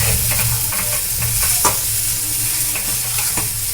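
Chickpea filling being stirred and fried in oil, a steady loud sizzle under repeated scraping strokes of a spatula in the pan, with no voices.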